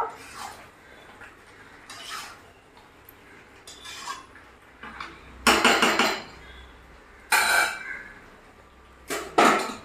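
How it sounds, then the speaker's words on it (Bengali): Chicken and snake gourd being stirred in a pan, a quiet backdrop broken by several sharp bursts of spoon scraping and clanking against the pan, the louder ones toward the end. "ওই চিকেনের জলটা যেটা ছাড়ছে ওটা দিয়ে আমি এখন সবকটা সবজি কষিয়ে নেব"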